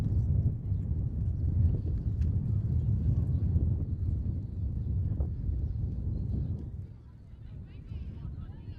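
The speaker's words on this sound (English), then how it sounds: "Beautiful day, except for this wind is pretty brutal." Strong, brutal wind batters the microphone at an outdoor college softball game, USF against Marian, with loud low rumbling gusts that run nearly the whole time before easing briefly near the end.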